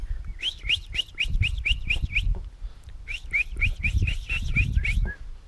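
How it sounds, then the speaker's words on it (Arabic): A great tit sings loud and close in a garden, giving two bright runs of rapid repeated whistled notes separated by a short pause. "هذا طائر القرقف العام ربيته"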